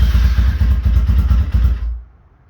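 A 2022 GPX Moto FSE 250E motorcycle idles with a close, throbbing engine pulse for about two seconds before it abruptly dies away.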